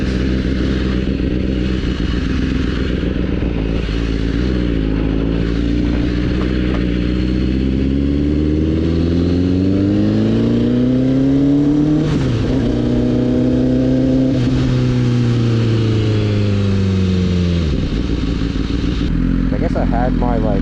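A BMW S1000RR sport bike engine pulls hard through rising revs, its tone climbing steadily and dropping between gear changes, loud and continuous throughout with wind noise.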